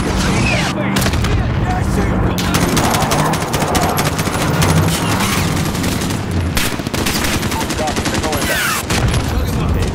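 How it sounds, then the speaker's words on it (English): Rapid rifle fire and explosions crackle through a Call of Duty: Modern Warfare street battle, dense, loud and continuous with a few brief gaps, while voices talk over the gunfire. "Wondering where they were shooting, bro."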